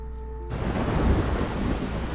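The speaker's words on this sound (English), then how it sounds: "Lots of thunder." Thunderstorm in the video game Life is Strange: after a brief quiet moment, loud rolling thunder breaks in with heavy rain, rumbling steadily to the end with no voices.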